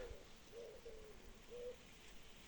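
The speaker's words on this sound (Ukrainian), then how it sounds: "чуєте, горлиця співає на вербі" Soft, low cooing from a turtle dove in a willow repeats a few times at a distance over a steady wind-like hiss.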